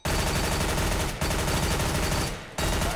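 Sustained, loud automatic gunfire from a video game weapon course, fired at a target through a piece of wood, in three long continuous bursts with brief pauses between.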